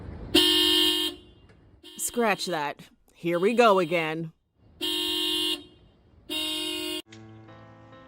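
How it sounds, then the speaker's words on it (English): A car alarm honks in loud, repeated bursts, each blast about half a second to a second long, alternating with stretches of electronic siren-like warbling, while a voice speaks briefly in between. "Turn off your car alarm, you inconsiderate, said another."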